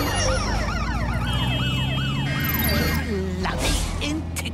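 Ambulance siren in the video game Watch Dogs Legion, a loud wailing tone that sweeps up and down in steady repeated cycles, close by with engine rumble beneath.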